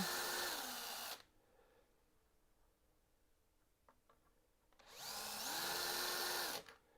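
A power drill drives a steel screw, whirring loudly for about a second, going quiet with faint clicks, then whining again for nearly two seconds, its pitch dipping under load.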